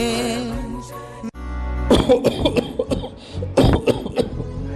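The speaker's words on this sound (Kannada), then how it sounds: "ಇರ್ಲಿ ಬಿಡಪ್ಪ, ಬರೀ ಕೆಮ್ಮು ತಾನೆ" A short stretch of voice gives way to a run of harsh, close coughing fits, several bursts in quick succession, performed on stage at a school annual day.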